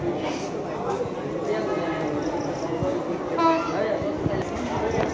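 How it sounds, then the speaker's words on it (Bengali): A train rolls into Akhaura railway station with a continuous low rumble and a brief horn-like tone, while people talk nearby on the platform. "অলরেডি ট্রেন ঢুকতেছে।"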